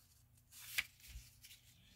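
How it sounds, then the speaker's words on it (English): Paper strips are folded in half, giving one brief, faint crisp rustle and crease at close range in an otherwise quiet room. "we are going to fold them in half"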